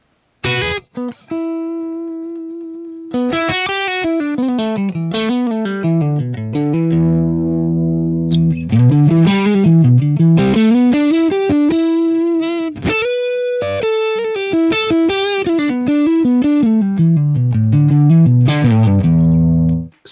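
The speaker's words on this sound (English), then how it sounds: "when you've got this distortion set low" An electric guitar plays a melodic riff through a Boss DS-1 distortion pedal at low distortion and tone settings, notes thick and sustained with a warm, full low end.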